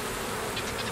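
Bees buzz at a hive, a dense, steady swarm drone that fills the moment close to the listener with no pause.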